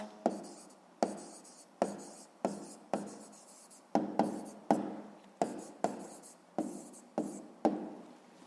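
Pen writing by hand in a school notebook, a series of about a dozen short, crisp strokes and scratches in a steady rhythm, close and fairly quiet, with no talking.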